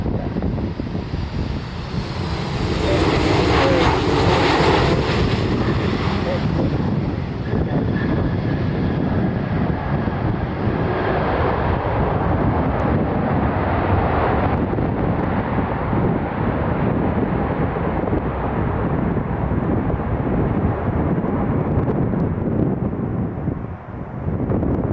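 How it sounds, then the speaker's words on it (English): An American Airlines Airbus A319 arriving from Philadelphia, its jet engines rising into a loud, broad roar with a whine, then settling into a sustained rumble as it passes, with wind buffeting the microphone on a misty, foggy night. "American Flight 1557 inbound from Philadelphia. It's Airbus A319."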